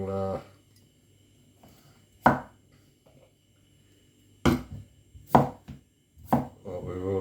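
A knife chops vegetables for homemade soup on a board, with several sharp separate cuts spaced a second or two apart, and a person talking briefly between them.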